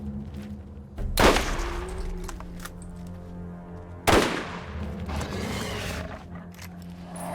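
Gunfire in the video game Borderlands comes as two loud, sharp shot bursts a few seconds apart, each ringing out over a low droning game background.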